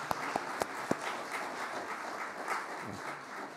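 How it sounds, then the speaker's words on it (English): A Baptist church congregation applauds visiting families, opening with a few sharp, separate claps before settling into soft, steady applause across the room. "Let's give them a round of applause for coming today"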